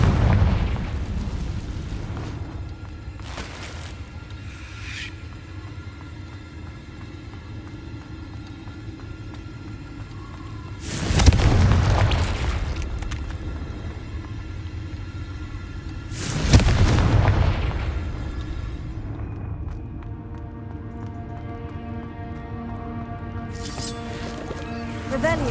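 Two deep, booming blasts from the Confringo blasting spell in the video game Hogwarts Legacy, spaced several seconds apart over a low ambient rumble, with a voice speaking in the background.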